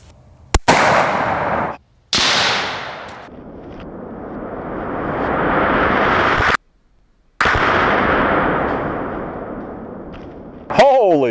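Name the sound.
6.5 Creedmoor 140gr ELD Match rifle shot blowing up a Boston butt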